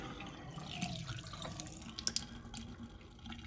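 Cold water running from a household tap with the main supply shut off, a steady soft trickle with a few faint drips and clinks, fairly quiet and alone.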